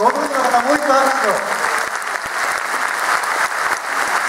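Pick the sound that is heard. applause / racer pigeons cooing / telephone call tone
applause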